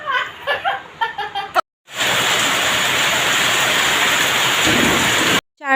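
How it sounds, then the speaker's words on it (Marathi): Brief talk gives way to a steady, loud rush of rain falling nearby, a dense continuous hiss that cuts off abruptly. "पावसाचं सुद्धा इथे आगमन झालेलं होतं"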